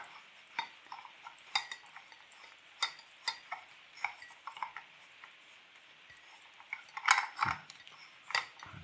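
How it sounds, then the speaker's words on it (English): An LED bulb being screwed into its holder gives faint, scattered metallic clicks and light scraping taps at an uneven pace, close by in an otherwise quiet space. "Trouble screwing the bulb in."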